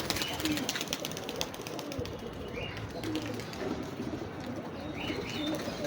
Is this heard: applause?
no